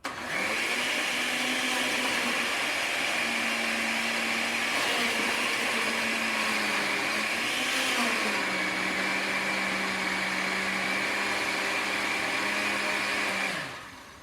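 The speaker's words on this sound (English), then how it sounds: "Okay, and quick little blend." A kitchen blender runs continuously for about thirteen seconds, blending homemade salsa with tomatoes, a loud steady motor whine whose pitch shifts slightly as the contents mix, then cuts off.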